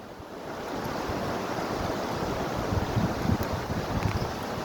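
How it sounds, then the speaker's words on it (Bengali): Waves wash steadily over open water, a continuous broadband surge with wind buffeting the microphone, the swells rising slightly louder toward the end with no voices. "বাবা রে ঢেউ হচ্ছে রে"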